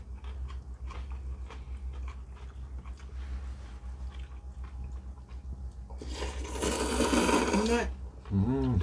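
Crunchy, wet eating sounds of cold noodles in water kimchi made with wild water dropwort and stonecrop, with slurping and chewing growing louder near the end over a steady low background hum.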